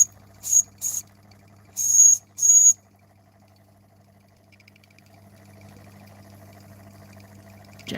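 A model steam engine gives several short, bright whistles in quick bursts, then settles into a soft, steady hiss like a teapot, alone and fairly close.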